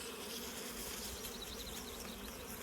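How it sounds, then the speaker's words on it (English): Dense, steady buzzing of many honey bees from an open hive during queen-rearing work, close and continuous throughout with no talking. "there's a lot of bees"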